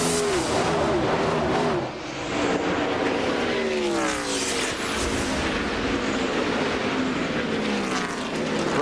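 NASCAR stock cars race past in a pack, loud engines roaring with rising and falling Doppler pitch sweeps as several cars go by close, a continuous dense racket.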